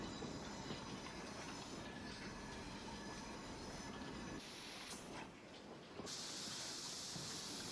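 A steam train, the LMS 3F Jinty in Train Simulator, slows with its brake van, giving a continuous rolling rumble with wheel squeal and brake hiss and a brief change in the hiss near the end.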